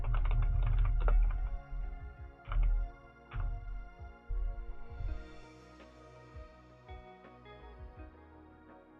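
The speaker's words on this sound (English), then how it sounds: "So I feel like I've been typing this forever." Steady typing on a computer keyboard during a coding session, with close, crisp key clicks in irregular bursts and short pauses throughout.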